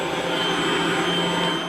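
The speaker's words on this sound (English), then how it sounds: "They're also using what's called the Insectizooka to vacuum up and collect engorged mosquitoes." An Insectizooka handheld vacuum collects engorged mosquitoes at a lamb feedlot near Ulm, giving off a loud, steady, close whooshing drone with no talking.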